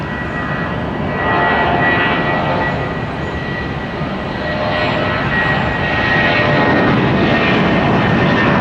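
A jet airliner takes off at Tampa airport, its engines roaring loud and continuous, the broadband rumble swelling slightly as it accelerates down the runway.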